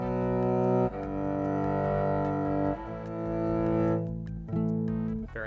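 Electric violin through a stock AC preamp modeled tone, clean sustained bowed notes with rich harmonics, a few slow phrases changing pitch, played alone and close.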